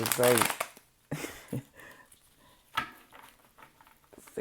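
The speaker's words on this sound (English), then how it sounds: "I'm going to do another shuffle" A deck of cards is shuffled close up in quick riffling bursts, the first long and dense, followed by softer shorter flicks and taps, with a person talking quietly in between.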